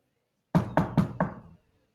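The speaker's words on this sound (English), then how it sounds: "I knock a little louder." Four firm knocks on a door in a quick, even series, close and clear against silence.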